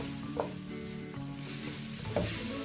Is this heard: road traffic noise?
no